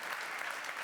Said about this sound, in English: please give these speakers a very warm round of applause